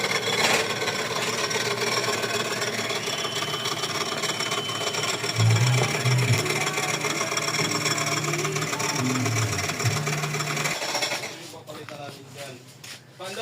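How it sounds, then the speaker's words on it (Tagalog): A steady mechanical whir and scraping rasp from a faulty serpentine belt tensioner in a running Honda R18 engine, close and continuous, with a voice briefly under it before it quiets near the end. "Yan yung ingay ng tensioner niya."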